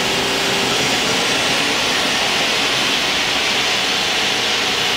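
A Mori Seiki DuraTurn 2550 CNC lathe spindle runs at 1,000 RPM, making a loud, steady broadband whir and hiss that holds constant throughout with no talk.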